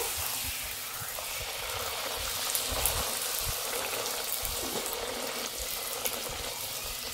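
Luchi, puffed Bengali flatbread, frying in hot oil in a wok, producing a constant dense sizzle and bubbling close by, even in loudness from start to finish, with no talking.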